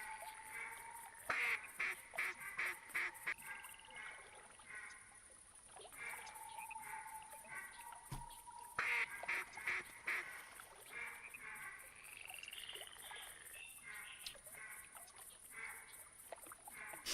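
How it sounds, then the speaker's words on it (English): Black ducks call across open water in a series of quacks, some close and some farther off, sounding faintly over a steady background hiss with no talking. "The black duck."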